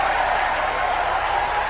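A crowd applauds steadily at a political rally, a dense wash of clapping that holds at an even level for under two seconds with no break.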